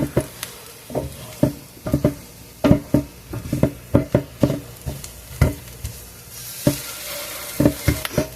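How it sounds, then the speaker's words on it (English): Onions and rinderwurst fry in a pan over moderate heat, a steady sizzle punctuated by frequent sharp scrapes and taps of a utensil stirring against the pan. "I don't want to put the heat on too high and then have the onions burn before the rinderwurst cooks."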